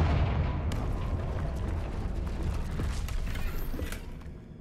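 The Confringo blasting spell going off in Hogwarts Legacy: a heavy burst of booming explosive noise with creaking, rumbling debris that slowly fades.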